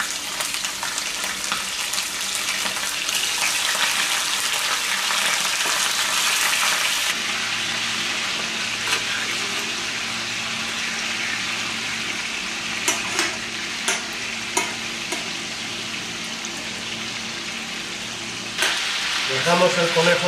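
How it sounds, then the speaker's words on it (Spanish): Rabbit pieces sizzle in hot, smoking oil in a pan for garlic rabbit, a steady loud hiss throughout with a brief scraping stir near the end. "Cuando el aceite está caliente, se empieza a humear"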